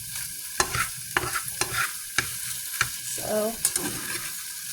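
An egg frying in a pan at breakfast, soft sizzling under repeated sharp scrapes and taps of a utensil stirring, moderately close, with a brief spoken word.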